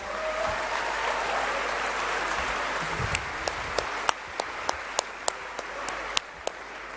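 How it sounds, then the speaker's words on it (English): Audience applause at an entrepreneurship summit in a convention hall, a steady wash of many hands heard somewhat distantly, with a few sharper close claps standing out in rhythm toward the end. "Can we give them a massive round of applause?"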